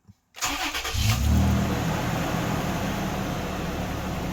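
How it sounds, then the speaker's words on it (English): A 2nd-generation Toyota Tacoma pickup truck engine cranks and catches after a brief click, then settles into a steady, loud idle rumble up close. "So we'll go ahead and fire this up."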